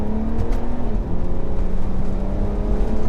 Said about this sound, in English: All right, full throttle now.